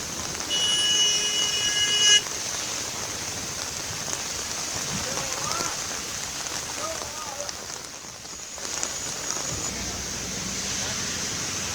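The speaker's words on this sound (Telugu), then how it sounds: "ఇవాళ ఉదయం నుంచి పలు ప్రాంతాల్లో తేలికపాటి వర్షం పడుతోంది" Steady light rain patters in the background in Delhi while a beeping tone sounds briefly at the start and a voice speaks faintly.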